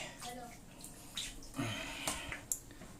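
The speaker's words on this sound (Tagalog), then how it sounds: "So, on natin yung tubig." Water runs faintly into a toilet tank after a flush repair, with a soft, steady hiss and a few splashy bursts, while muffled voices murmur nearby.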